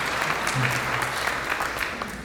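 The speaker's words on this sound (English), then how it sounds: "that's worth a round of applause" At an alumni reunion awards brunch, the audience breaks into applause, a full burst of many people clapping that stays strong before easing off, with a low voice briefly heard beneath it.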